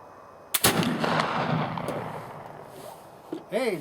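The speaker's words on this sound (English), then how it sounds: "I'm going to fire both round ball and the Lee bullets" A Traditions Kentucky flintlock rifle fires a round ball with one sharp, loud crack and a long rolling echo outdoors, followed by a brief voice near the end.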